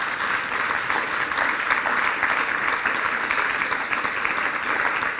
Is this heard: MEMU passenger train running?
no